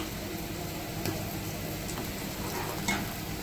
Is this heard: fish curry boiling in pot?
yes